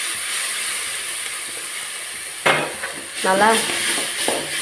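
Ground masala paste hits onions frying in a pan, giving a steady hiss of sizzling that flares louder as the paste is added, while a voice speaks briefly over it.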